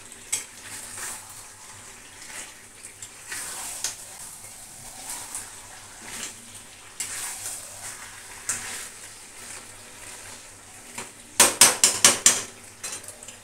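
Mutton fries on low heat in a kadai with a soft continuous sizzle, broken by repeated scrapes of a spatula stirring the meat and a quick burst of sharp metal taps against the pan near the end.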